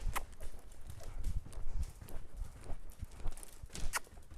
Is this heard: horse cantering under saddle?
yes